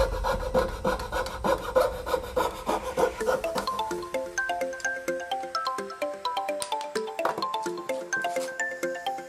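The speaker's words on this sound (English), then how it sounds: "We've got one more cut to make here, and I've changed my blade on the jigsaw." Jigsaw with a new blade cutting an 18mm wood board, a rapid rasping saw stroke close by that starts heavy and low, then thins into quieter, choppy cutting.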